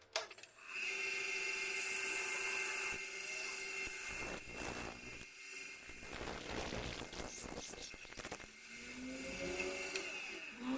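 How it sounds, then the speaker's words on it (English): A drill bores a hole straight through a pen blank at about 700 RPM, giving a steady high whine with rough cutting noise that grows busier midway, close and alone. "And I'm going to drill this at about 700 RPM."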